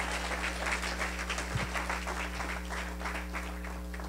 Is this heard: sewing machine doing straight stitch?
no